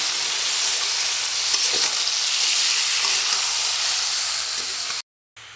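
Fish sizzles loudly in hot oil in a pan while being stirred for an Assamese fish curry, a continuous bright frying hiss with faint scraping, cut by a short silence near the end.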